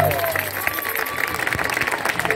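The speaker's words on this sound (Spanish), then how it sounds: "Fuerte el aplauso para Eduardo Colonio, nuestro locutor," Audience applause at a tropical music show, moderately loud clapping with crowd noise and some voices mixed in, a tonal sound sliding underneath.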